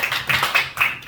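A few people clap in short, uneven bursts, about four quick rounds close by, for a women's association president at a Korean UN Participation Day thanksgiving service and press event.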